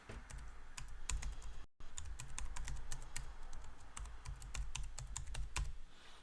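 An email address is typed on a computer keyboard, rapid irregular clicking keystrokes close by and fairly quiet, with a brief break partway through.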